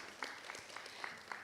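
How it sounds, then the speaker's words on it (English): Short, faint burst of audience applause at a health forum as a speaker comes up, scattered hand claps with a few sharper ones standing out. "A round of applause for Henry as he's coming up here."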